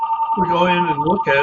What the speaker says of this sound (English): And I'm sorry about the phone.